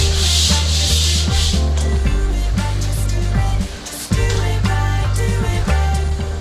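A power sander whirs continuously with a loud grinding rub against a skim-coated popcorn ceiling, briefly easing off for a moment before running on steadily.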